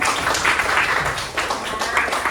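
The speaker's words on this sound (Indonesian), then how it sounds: "Tepuk tangan dulu buat temannya" Classmates give a round of applause in a classroom, dense, lively clapping from many hands that holds steady and fairly close for a couple of seconds, with faint murmuring beneath.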